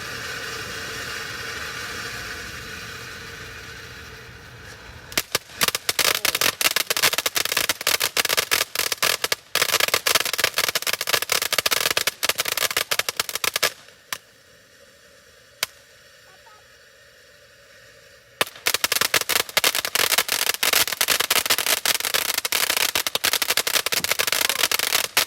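A firecracker string goes off in rapid crackling bursts, loud dense pops running in long volleys with brief quiet gaps between them, close and harsh, no speech.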